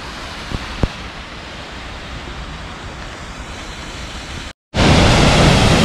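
A waterfall near Davison's Lane on a wintry walk roars as a constant, dense rush, with two brief knocks early on; the sound cuts out for a moment, then returns louder.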